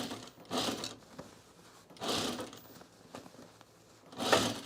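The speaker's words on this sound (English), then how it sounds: "I'm going to top stitch this down" Sewing machine top stitching a seam on trousers, running in three short bursts with pauses between them, close and moderately loud with no talking.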